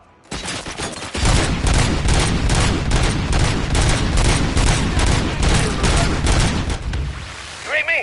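Dense, sustained gunfire from the RoboCop: Rogue City video game, a loud rapid volley of shots running for several seconds with no break.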